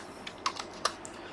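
Router configuration commands are typed on a small computer keyboard: a few quick, light key clicks in an uneven burst, close and fairly quiet, with no talk.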